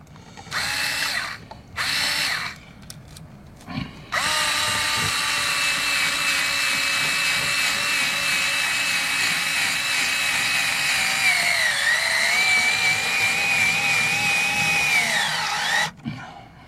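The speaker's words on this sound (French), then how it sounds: "je vais placer une vis en dessous déjà pour le maintenir" A cordless power drill drives screws into a Maxton Design body kit on a Tesla Model 3: a few short bursts first, then a long steady whine of about twelve seconds that sags in pitch near the end as the screw seats, loud and close.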